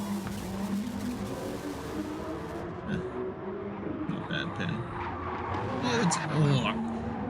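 Race cars in Gran Turismo Sport at Laguna Seca, including a BMW sliding onto the dirt, drone and squeal their tires beneath continuous excited commentary.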